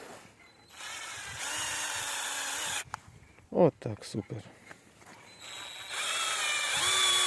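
Cordless screwdriver drill driving screws, whirring in long sustained runs at the start and end with a few short bursts and ratcheting in between, close by, while a person speaks briefly.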